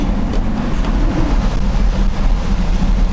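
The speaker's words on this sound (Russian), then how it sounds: "чтобы вы примерно понимали, да, какой тут ветер, как тут дует" Strong hurricane wind blows steadily across an open car market lot, a dense roaring rumble with no breaks, loud and close as if buffeting the microphone.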